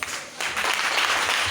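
A church congregation claps and cheers loudly, a dense burst of applause that swells after a brief dip and stays strong and close throughout.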